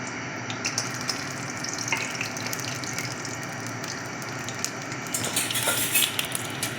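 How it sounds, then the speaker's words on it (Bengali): Lentil bori frying in oil in a pan, a steady crackling sizzle running throughout with occasional clinks of a utensil, louder bursts of spatter toward the end. "এবার আমি তেল দিচ্ছি বড়িগুলো ভেজে নিচ্ছি"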